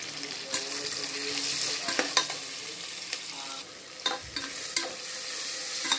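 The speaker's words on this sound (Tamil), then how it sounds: "வெங்காயம் நல்லா வதங்கணும். வதங்கும்போது தேவையான உப்பு போடணும்." Onions sauté in a pan for tomato rice, a steady bright sizzle punctuated by the scrape and clack of a spoon stirring now and then, close and fairly quiet.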